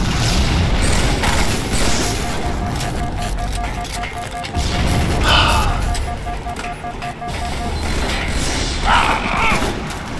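Grenades going off in Halo MCC multiplayer, loud crashing blasts amid mechanical clatter and ongoing battle noise, with bursts near the middle and end.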